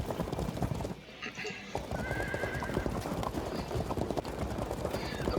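Horses clip-clop and neigh repeatedly in a Field of Glory 2 battle, a dense steady drumming of hooves with whinnies rising over it and a brief lull near the start.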